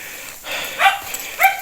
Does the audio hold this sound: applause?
no